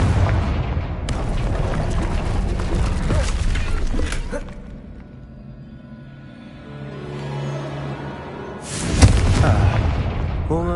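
A Confringo blasting spell in the video game Hogwarts Legacy sets off a sustained rumbling explosion that fades to a low drone, then a second loud, close blast bursts in near the end.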